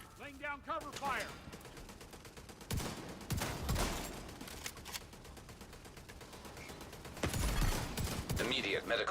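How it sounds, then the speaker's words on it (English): Video-game gunfire laying down cover fire, with rapid bursts of automatic shots repeated in clusters, loud and close, while a voice speaks briefly at the start. "Laying down cover fire."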